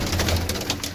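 Pigeons on a rooftop loft coo in a low, throaty hum close by, a brief steady murmur with faint rustling above it and no talking.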